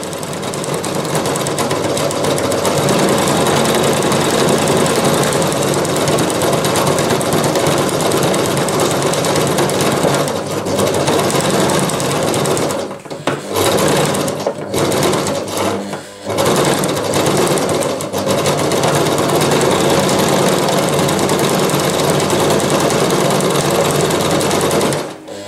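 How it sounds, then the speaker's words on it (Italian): A sewing machine runs freehand stitching across fabric for a small flower-shaped catch-all, a loud continuous rapid clatter that pauses briefly twice near the middle before picking up again. "Una serie di impunture qui in mezzo, guardate, cucio così a mano libera."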